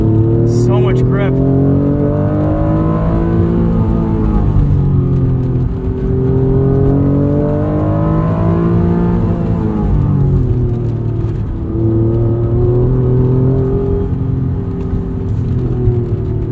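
A 1992 Acura NSX engine heard from inside the car on canyon roads, a steady, near drone that rises and falls through the gears.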